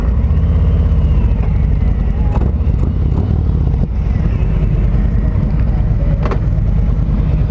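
A Harley-Davidson Road Glide Special motorcycle engine, 2019 model, runs with a loud, steady low rumble close by, a brief dip partway through and faint voices beneath.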